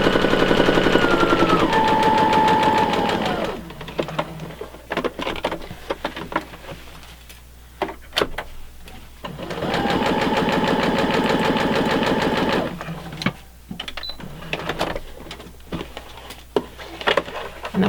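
Sewing machine stitching back and forth across a fabric zippered pouch, with two long rapid mechanical runs separated by softer clicks and handling noises, close and clear.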